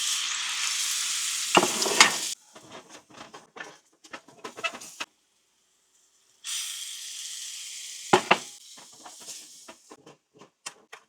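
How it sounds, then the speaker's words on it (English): Beef bouillon hits a hot pan of corned beef hash, giving loud bursts of hissing sizzle that cut off abruptly, with quieter crackling, scraping and stirring between them close up. "I'm going to use this beef bouillon to try and deglaze this pan."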